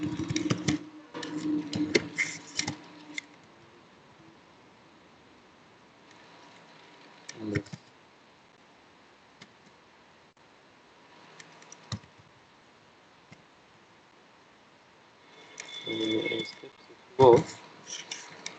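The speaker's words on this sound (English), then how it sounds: "Here I am typing my code." Code being typed on a computer keyboard in the GVIM editor: scattered bursts of quick key clicks, close and moderately soft, separated by quiet pauses, with brief speech mixed in.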